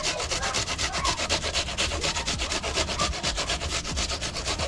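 Food is rubbed back and forth across a grater while fried chicken is prepared, producing loud, close, rapid rasping strokes in a steady repeating rhythm.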